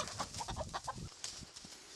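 Chickens and ducks clucking and chattering up close at a village entrance, a quick burst of fowl calls in the first second followed by quieter scattered sounds.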